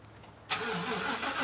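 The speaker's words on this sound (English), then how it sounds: "Cold start on the Raptor." A Ford Raptor truck engine cold-starts after a brief quiet moment, catching abruptly with a loud burst and settling into a high, steady idle close by.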